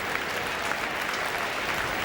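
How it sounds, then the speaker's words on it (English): Football crowd noise filling a stadium, the North and South Stands shouting at each other in a steady, dense roar that holds for the whole stretch without letting up. "The crowd are keeping themselves entertained. The North Stand and the South Stand shouting at each other"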